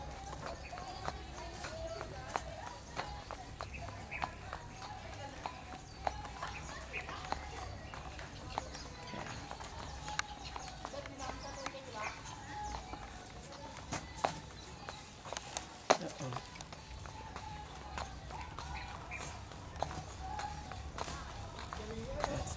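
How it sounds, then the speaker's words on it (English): Horse hooves clop in an irregular rhythm over the whole ride, faint and steady, with a rider talking quietly and outdoor noise around them. "Horse ride, wow."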